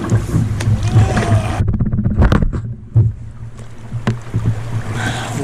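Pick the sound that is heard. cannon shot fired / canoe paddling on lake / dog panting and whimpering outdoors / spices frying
canoe paddling on lake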